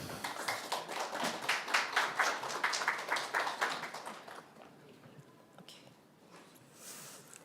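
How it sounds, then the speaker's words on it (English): Conference audience clapping for a student group, a dense burst of rapid applause that swells and then thins out and fades after a few seconds, leaving scattered quiet room noise. "Welcome the group with a big applause"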